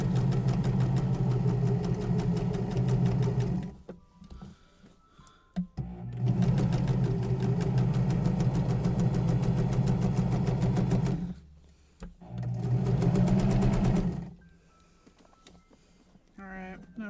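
Sewing machine stitching the bodice of an apron dress, running in long steady bursts of rapid needle hum with short pauses between runs, close and loud.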